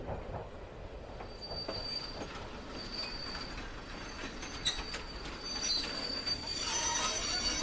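A moving train sounds steadily in the background of an audio drama, with rumbling carriages, faint rhythmic wheel clatter and thin high squeals of wheels on the rails, growing slightly louder toward the end.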